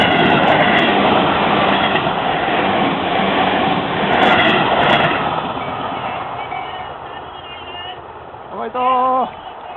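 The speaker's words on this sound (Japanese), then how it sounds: "電車通過、大宮駅通過です。" A train runs past Omiya station during a kite marathon event, its steady rumble filling the scene alongside crowd noise, with a brief squeal of wheels near the end.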